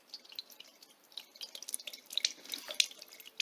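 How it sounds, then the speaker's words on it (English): Excess water draining down through a five-tier self-watering terra cotta planter, a soft irregular patter of drips and trickles that builds gradually, close and fairly quiet with no voices. "So when you water the top pot, all the water that's not used will drip down to all the subsequent"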